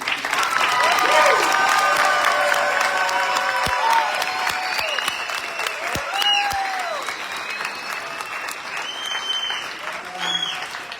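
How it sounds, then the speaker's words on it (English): An audience applauds graduates at a college graduation ceremony, sustained loud clapping from a large crowd with scattered whoops and cheers, and voices talking through it. "if all of our audience will please join me in recognizing and applauding our graduates' achievements tonight."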